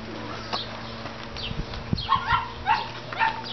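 A dog gives a few short, high yips and barks near the end, close by, over a faint background hum, after a couple of softer sounds earlier on.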